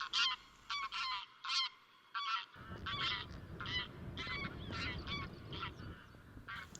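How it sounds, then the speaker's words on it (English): Flocks of wild geese honk over farmland on Orkney, with repeated overlapping calls in a steady chorus, and a low rumble of wind or distant birds building beneath them partway through. "Thousands of ducks, swans and geese come to roost and graze on surrounding farmland."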